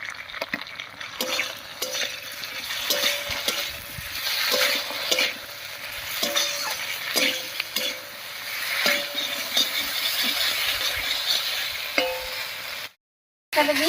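Ground spice pastes of dried chilli, ginger, cumin and onion sizzle in a pan while a spoon stirs them in steady repeated scrapes, close and fairly loud, for a fish roe curry with drumsticks and potatoes, ending in a brief silence.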